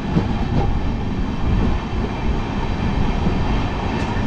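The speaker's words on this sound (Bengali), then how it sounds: "খুব ভালো একটা ট্রেন কিন্তু এই কাঞ্চনকন্যা এক্সপ্রেস।" Kanchankanya Express passenger train running along the track, a steady loud rumble and rattle of carriages filling the whole stretch, with no voices.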